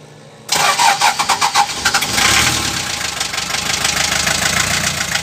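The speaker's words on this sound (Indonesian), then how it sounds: "Ini untuk mesinnya cekbur" A 1981 Daihatsu Delta diesel engine cranks with a rapid, loud chugging burst, catches, and settles into a steady, rough, clattering idle close by.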